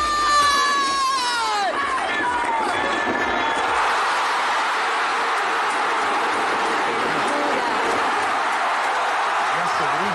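A huge crowd of about 140,000 celebrating Argentina's World Cup win with giant screens, a dense, sustained roar of cheering and shouting, whistle-like tones fading early, steady and far-spread throughout.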